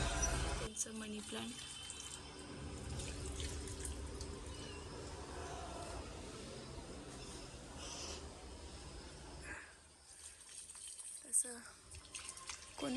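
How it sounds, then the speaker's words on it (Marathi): Water poured onto plants runs steadily, splashing and trickling at close range, with faint voices in the background. "तर पाणी ओतलं पाहिजे ना"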